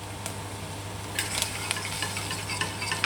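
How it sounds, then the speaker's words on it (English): A whisk works flour into fried onions in a pan, making soft scraping and tapping against the metal over a gentle, continuous sizzle, with a low hum underneath. "I'm going in with my whisk now"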